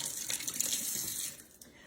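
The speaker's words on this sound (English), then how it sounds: "Give my hands a wash" Steady hiss of tap water running into a kitchen sink while hands are washed, close and fairly loud, easing off slightly toward the end.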